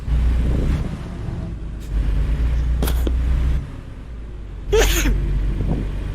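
A single sharp sneeze bursts out near the end, with a few smaller breathy sounds earlier, all over the low rumble of a truck interior in the game American Truck Simulator.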